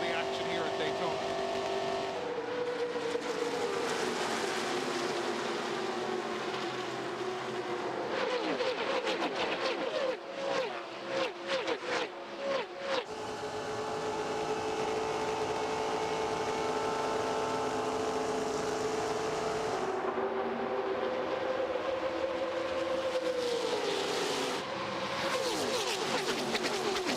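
Onboard racing at Daytona with Steve Park in the 1998 Pepsi 400, a stock car engine roaring steadily at high revs, with rising and falling pitch through shifts and passing cars, loud and continuous throughout.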